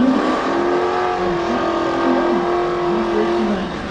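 A white Corvette and a Camaro at a drag racing event: a loud, close engine holds a steady, droning rev with shifting tonal whine throughout, sounding like a car staging or running at the strip.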